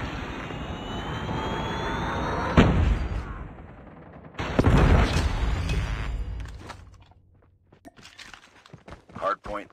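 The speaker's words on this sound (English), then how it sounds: "Predator missile inbound." A Predator missile strike in a shooter video game's hardpoint match: an aircraft whine, then a sharp blast and a second heavy rumbling explosion, with gunfire and game voice callouts around them.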